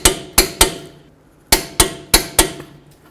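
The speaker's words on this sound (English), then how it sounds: "We're going to torque these to 166 foot-pounds." A torque wrench clicks repeatedly while tightening the strut nuts on a 2007-2014 Ford Edge's front driver-side loaded strut assembly to 166 foot-pounds, giving seven loud, sharp, close metallic snaps in two quick groups with no talking.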